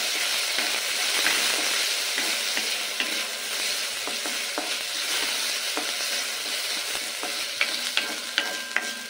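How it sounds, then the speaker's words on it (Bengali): Raw rice stirs through hot oil in a pan, a steady close sizzle broken by frequent light scrapes and clicks of the spoon, with no talk. "এবার চালটাকেও একটু এই তেলের মধ্যে নেড়ে নেব"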